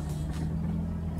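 A vehicle towing a truck with a blown transmission rumbles along with a steady low engine drone and road noise, heard up close and unbroken.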